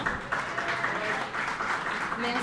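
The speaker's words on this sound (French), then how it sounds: "On peut l'applaudir encore une fois," An audience at an evening event in Mauritius claps in a brief, moderate burst of applause heard from within the room, mixed with a voice talking over it.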